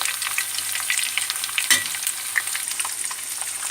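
Tofu and soya nugget pakoda fritters sizzle steadily in hot oil, a close, even crackle with small pops and one brief clink partway through, no voices.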